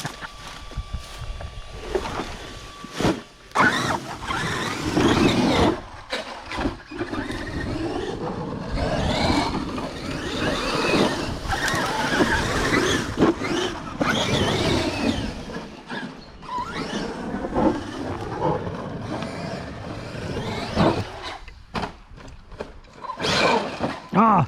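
A Big Mama RC car with a Sledge Hammer HW 1100kv 14/35 motor tears across rough ground, its motor revving and whining in loud, uneven bursts with sharp gaps and rattly impacts.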